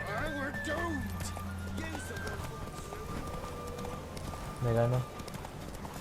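Hooves clip-clop in a quick galloping rhythm as a horse runs in The Witcher 3, steady across the stretch beneath constant talking, with a brief louder burst near the end.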